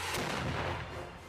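A loud volley of gunfire rings out right after a shouted order to fire, a single dense burst that decays into a rolling echo within about a second.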